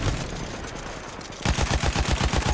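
Machine gun fire aimed at a heavy bomber in Battlefield 1 on the Monte Grappa conquest map: after a brief stretch of muffled battlefield ambience, a loud, steady stream of rapid, punchy shots rattles in close for the final second.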